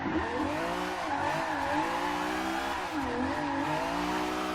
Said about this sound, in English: drifting mostly in first gear around these low-speed corners